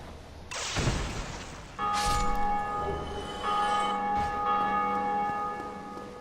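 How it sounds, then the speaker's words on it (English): A large bell in Dark Souls Remastered tolls with a deep boom followed by long ringing overtones, struck again partway through, loud and resonant with the hum sustaining to the end. "I'll explain what that bell ringing means in a little bit."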